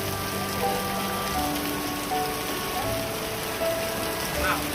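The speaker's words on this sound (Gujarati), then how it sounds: "ધુઆધાર વરસાદ" A steady downpour of heavy village rain makes a dense, even hiss, with faint drawn-out tones running over it throughout.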